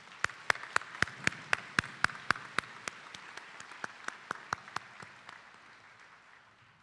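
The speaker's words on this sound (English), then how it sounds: "Let's give our graduating class of 2025 another round of applause" Commencement applause for a medical school graduating class: a sparse round of distinct claps, steady at first, then thinning and fading over several seconds, heard from a moderate distance without talk.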